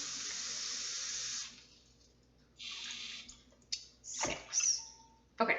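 Water running from a tap in short bursts, a close hissing stream that starts and stops several times with splashing into a container between quiet pauses.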